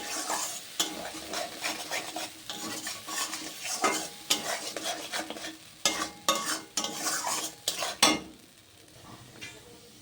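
A spatula scrapes and stirs a pea filling with a little sugar in a wok for kachori, giving irregular metallic scraping strokes over a soft sizzle.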